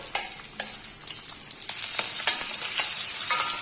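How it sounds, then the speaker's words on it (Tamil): Onions and spices sautéing in a pan for a vegetarian banana flower curry, a bright steady sizzle punctuated by repeated scraping stirs of a spatula, growing slightly louder partway through, close up with no speech. "இது வதங்கட்டும்"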